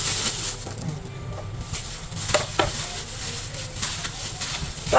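Beef bulgogi marinade with black pepper is mixed by hand, producing soft wet squelches and scattered clicks close by over low background noise, with brief faint voice traces.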